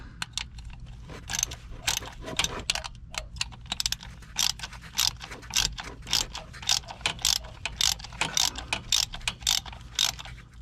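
A ratchet wrench turns on a van, rapid bursts of clicking pawl strokes repeating in quick uneven runs, close and crisp with brief pauses between, no speech.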